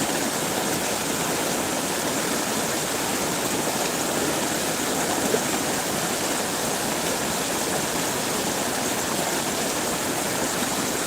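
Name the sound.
flowing river water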